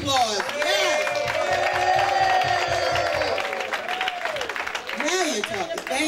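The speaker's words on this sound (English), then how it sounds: "A rousing round of applause" An audience applauds and cheers for honorees at a civil rights event, clapping mixed with rhythmic shouts and voices, close and lively, with a loud vocal swell near the end.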